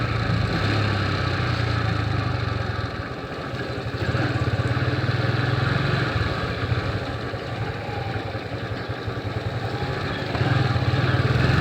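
Motorcycle engine running steadily while riding on a road, low-pitched drone with slight rises and dips in throttle, close and continuous throughout with no talking.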